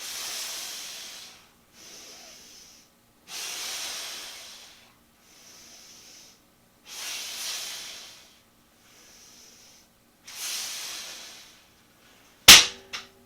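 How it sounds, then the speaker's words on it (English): Forceful breaths during a beginner pull exercise, heard as several separate long, hissing exhales with quieter inhales between them, close to the microphone, then a single sharp click at the end. "I want to hear that inhale and that exhale"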